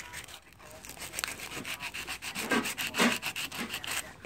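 Sandpaper rubs by hand on a GY6 180cc scooter top-end engine part in a series of quick, rhythmic back-and-forth strokes, close and fairly quiet, with no talk.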